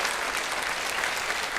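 Steady applause from a Korean church audience, dense clapping that holds evenly loud from start to finish with no voices over it.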